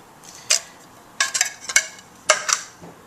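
A container of crushed pineapple opened and tipped into pudding mix in a bowl: a few short, sharp clinks and scrapes of metal and utensils in quick clusters, close by, with no talking.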